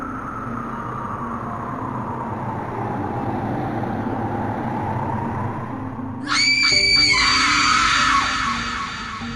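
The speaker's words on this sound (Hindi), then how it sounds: "तभी सामने से चीखने चिल्लाने की आवाज आने लगती है।" In a horror story about a scary teacher, a scene opens on a low rumbling ambience. Several voices then break into high, shrill screams and yells, which sound loud and overlapping near the end.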